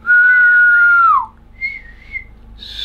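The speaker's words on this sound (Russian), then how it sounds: "Я умею свистеть." A person whistles a long, clear, sustained note that slides downward at the end, followed by a couple of shorter, softer whistled tones. The whistling is close and alone.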